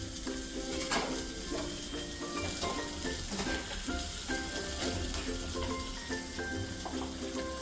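Urad dal and green chillies fry in hot oil with a steady, dense sizzle and crackle, occasional stirring clinks, and faint kitchen ambience, no talking.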